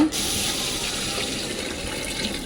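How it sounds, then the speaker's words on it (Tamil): Mutton cooking water poured from a vessel onto basmati rice for Ambur-style mutton biryani, a steady close splashing gush of liquid running without a break. "இது கூடவே கறி வேக வச்ச தண்ணியும் ஊற்றிக்கணுங்க."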